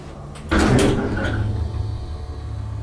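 Doors of a Dover traditional hydraulic elevator sliding shut with a close clunk and short rumble, then a steady low cab hum.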